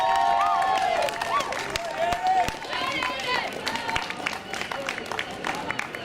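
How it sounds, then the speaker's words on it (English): Live audience at a Culture Night spoken word poetry event applauding, a steady wash of clapping mixed with cheers and crowd noise, with voices over it. "just put your hands together on the cusp of that applause for Aidan"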